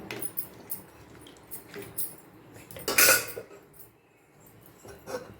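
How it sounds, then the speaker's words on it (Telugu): A lid goes onto a pot of chicken curry with water added, one sharp metallic clank standing out among quieter kitchen clinks and shuffles. "మూత పెట్టేయాలి."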